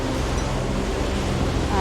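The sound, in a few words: ocean waves and swell at Wide Bay Bar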